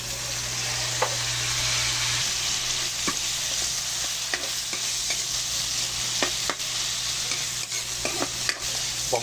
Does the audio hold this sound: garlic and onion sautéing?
yes